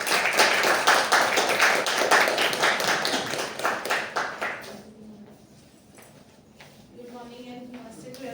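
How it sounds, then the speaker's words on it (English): A roomful of people at a Toastmasters meeting applaud, brisk dense clapping for several seconds that thins out and fades as a voice begins speaking near the end. "With a big round of applause, let us call upon evaluator Toastmaster."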